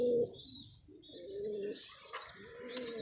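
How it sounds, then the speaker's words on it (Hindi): Pigeons coo in soft, low repeated calls close by, with a few higher chirps and light fluttering in between. "ये हैं आज तक के कबूतर"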